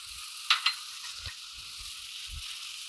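Garlic cloves fry in hot ghee in a pan, a steady, soft sizzle with a couple of sharp clinks near the start and faint low thuds of stirring.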